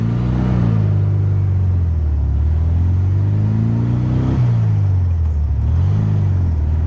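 1976 VW Super Beetle with running issues and backfire, its air-cooled engine droning loud and close while driving, pitch rising and falling through gear changes, with no talking.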